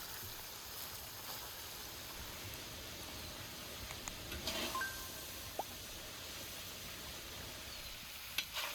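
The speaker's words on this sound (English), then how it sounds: "I don't want to cook it too long, just enough to sear the meat and capture all those beautiful aromas" Beef chunks sear in a pan with lamb tail fat, giving a soft, steady sizzle with a few faint clinks, quiet throughout and without talk.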